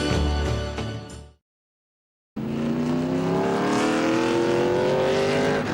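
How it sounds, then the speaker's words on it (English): NASCAR race cars, including a Shell Pontiac, roar loudly around the track with high engine drone, cut by a brief silent gap, then a rising sustained engine whine as the cars pass. "There is the car number 44 of Tony Stewart in the Shell Pontiac"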